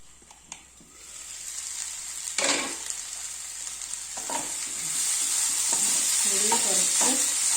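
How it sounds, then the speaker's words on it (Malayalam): Onions sautéing in a covered pan while making Kerala-style egg roast, a steady close sizzle and hiss with occasional stirring scrapes, growing slightly louder toward the end. "മൂടി വെച്ച് വഴറ്റിയെടുക്കുക."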